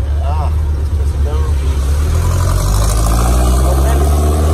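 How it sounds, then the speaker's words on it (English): A tuk-tuk engine runs steadily with a low, continuous drone while riding through busy, noisy Cambodian streets, with brief talk over it early on. "I'm driving back home in a tuk-tuk to my hotel for tonight"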